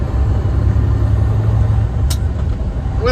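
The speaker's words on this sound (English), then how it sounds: "Ah, loader's running up there." Caterpillar 980K wheel loader engine running steadily in a cold winter stone yard, a continuous low diesel rumble close by with a brief higher-pitched sound near the end.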